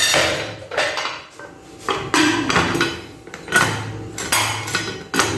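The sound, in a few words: putting the lid on a pressure cooker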